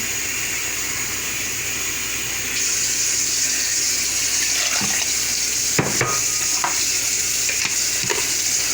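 Water runs from a kitchen tap during low-carb cooking, a steady hiss that thickens partway through, with a few clinks and knocks of utensils scattered over it.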